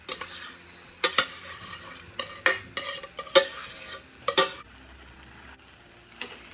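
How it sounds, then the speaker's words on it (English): A spoon scrapes and clatters against a pan while crab meat, rice and vegetables are stirred, a run of quick, sharp strokes over a soft sizzle, then a quieter pause. "Give it a quick stir."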